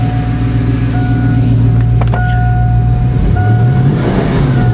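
Ford Mustang GT with severe misfires running rough, a loud uneven engine drone that stumbles and cuts out under throttle, with a high steady whine from a squealing belt over it, heard close up.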